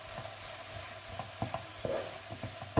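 Garlic, fresh coriander and cumin fry in a pan for stuffed batbout, giving a steady sizzle broken by a series of irregular stirring scrapes and taps close by. No one talks.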